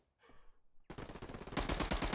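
Gunfire from an upstairs window in the game Hell Let Loose: after a faint moment, a close, loud burst of rapid automatic shots that grows heavier and denser toward the end.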